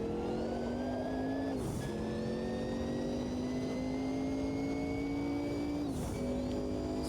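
A simulated race car in the driving game Automobilista 2, using automatic clutch, holds a steady engine note that climbs through each gear, with two quick upshifts that briefly drop the pitch before it rises again.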